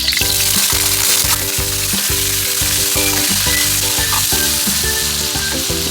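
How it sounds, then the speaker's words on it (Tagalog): Eggplant fries in hot oil for squid adobo, giving a loud, steady sizzle close by, with the crackle of frying running continuously throughout. "Iprito po muna natin ang talong."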